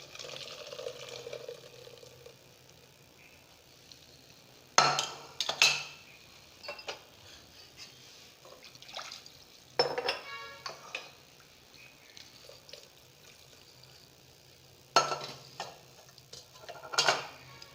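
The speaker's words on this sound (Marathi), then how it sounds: "आता मी हे चाळणीने गाळून घेत आहे" White pumpkin soup strained through a metal sieve, with scattered clinks and scraping taps of a spoon against the strainer and pot in short bursts between quiet stretches.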